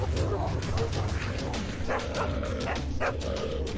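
Several dogs bark and yip in an agitated neighborhood confrontation, with loud, continuous noise and bursts of barking and whimpering mixed with shouting voices throughout.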